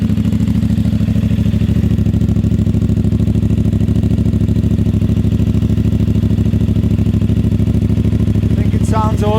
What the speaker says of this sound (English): Just one switch, top to kill it, and the bottom to start it. So that's your cold start.